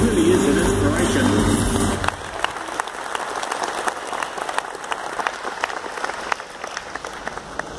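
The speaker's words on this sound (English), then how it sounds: "Don't clap too much" Audience applause after Mark Inglis of New Zealand takes the lead in a cycling time trial, loud and dense for two seconds, then thinning to scattered, near claps.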